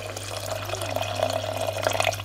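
Water runs into toor dal in a cooking pot for sambar, a steady trickling and splashing stream that holds for a couple of seconds at close range.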